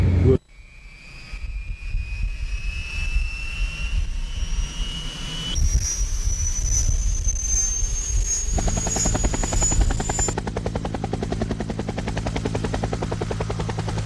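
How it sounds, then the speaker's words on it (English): A helicopter hovers under automatic fuzzy logic control with the controls untouched, holding a constant heading. A loud, steady turbine whine and rotor roar run throughout at close range, with the pitch of the whine shifting in steps. "trying to do automatic hovering, hover taxiing, where the aircraft holds a constant heading"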